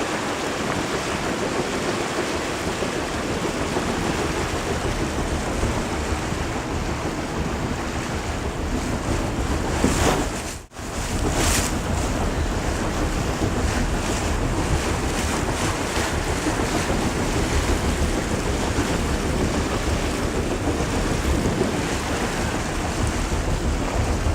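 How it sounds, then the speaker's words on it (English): Aboard Britain's last coal-fired paddle steamer, the Kingswear Castle, cruising on a river: a constant broad rush of water and wind noise with a low engine rumble, interrupted by a brief dip partway through, no voices. "Now the Kingswear Castle that you're sat on today is Britain's last remaining coal-fired paddle steamer, and we burn about half a tonne of Welsh coal every day"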